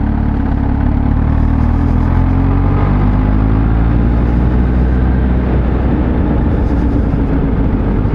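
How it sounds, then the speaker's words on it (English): A 2020 Kawasaki Z H2 supercharged naked motorcycle engine running under load, a loud, smooth, low droning hum with gently rising pitch as it pulls, heard close with heavy wind rush. "But the motor is really smooth, really"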